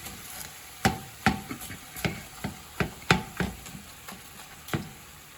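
Ground beef, still partly frozen in patches, cooking in a pan while a tool breaks it apart, giving a series of sharp scraping taps at an uneven rhythm over a faint sizzle, close and clear with no talk.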